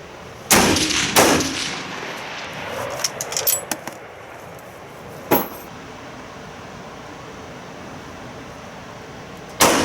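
Sharp rifle shots from a Mosin-Nagant PU sniper rifle fired at targets 300 m away, several loud cracks spaced over a few seconds with a brief clatter between, heard outdoors with no talking.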